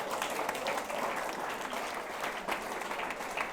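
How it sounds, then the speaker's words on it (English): School audience applauding for ninth-class students, a continuous, even wash of clapping from many hands at moderate volume that holds steady throughout. "Big round of applause for 9th class."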